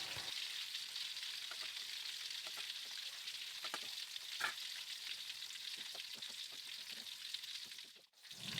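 Sliced cucumber and coarsely cut red chili sizzle steadily in pesmol sauce for mackerel, a continuous close frying hiss with occasional soft stirring clicks and no voices.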